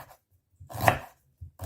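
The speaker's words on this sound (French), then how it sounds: "On fait pareil pour le gingembre. Je le coupe en petites lamelles" A knife slices through fresh ginger on a board, two or three short crisp cutting strokes separated by brief silences, close and clear.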